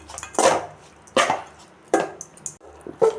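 A spoon stirs cooked rice into a tempering in a pan, producing four distinct scraping, clattering strokes at a slow, uneven rhythm, close and fairly loud against near silence.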